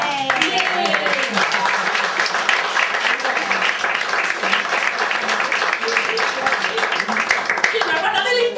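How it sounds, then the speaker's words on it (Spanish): Audience applause at an evening cultural show welcoming a world-dance association, dense steady clapping filling the room with a few cheers and voices mixed in throughout. "vamos a dar un fuerte aplauso"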